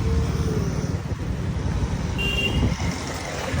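Trucks and cars run along a road near a market, forming a steady roar of engines and tyres nearby, with a brief high beep partway through and people talking under the traffic.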